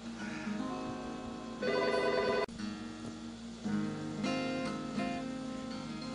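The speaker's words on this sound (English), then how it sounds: "before the phone rang" A telephone rings in a home, with repeated electronic ringing bursts sounding close and fairly loud over several seconds, with no talking.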